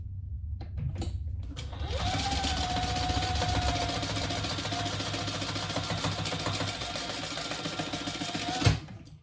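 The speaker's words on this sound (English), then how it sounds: "And then we'll turn and top stitch that." A sewing machine top stitches a crossbody bag, starting up and running at a steady fast whir for several seconds before stopping with a small clunk, with no talk.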